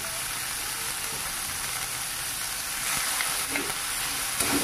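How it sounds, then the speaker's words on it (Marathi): Vegetables with capsicum sizzle and are stirred in a hot pan for paneer fried rice, a steady close-up hiss of frying with faint scrapes of stirring, continuous and without talk. "चांगलं परतून घ्यायचे।"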